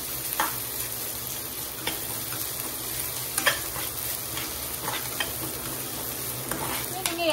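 Ginger and garlic sautéing in ghee in a pan for kaju (cashew) curry, a steady soft sizzle with scattered scraping stir strokes of a spatula throughout, close and fairly quiet.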